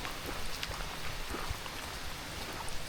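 Rain falls steadily over a forestry area beside a New Zealand campsite, a soft, faint, even patter of drops with no voices over it.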